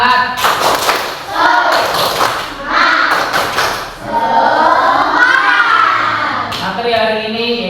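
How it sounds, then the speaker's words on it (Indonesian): Children in a classroom perform a rhythmic group clapping cheer, a patterned series of claps in bursts mixed with chanted voices and a teacher talking, all close and fairly loud. "tepuk semangat"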